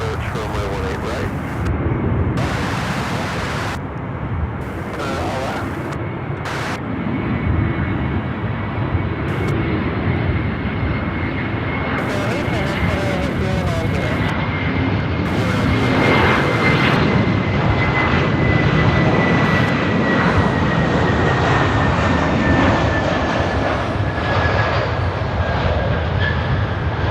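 An Airbus A321 jet arriving at Charlotte Douglas International Airport roars loudly and steadily, its engine whine slowly sliding in pitch as it passes nearby. Voices can be heard faintly in the background.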